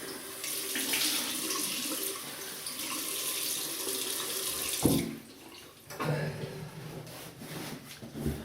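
Warm water runs from a tap into a sink for rinsing during a wet shave with a double-edge razor, a steady close splashing stream that cuts off midway, followed by softer clinks, drips and handling sounds.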